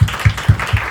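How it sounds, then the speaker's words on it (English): Audience applause at an evening speakers series event, heard as a brief run of loud, evenly spaced claps with a steady pulse. "If you'll raise your hands and let us applaud you."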